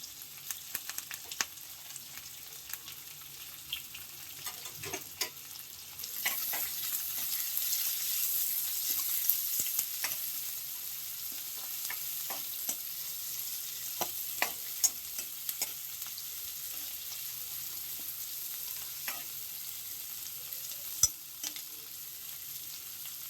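Onions frying in a pan for a dry curry, with a steady sizzle that grows louder partway through and scattered clicks of stirring, heard alone without talk.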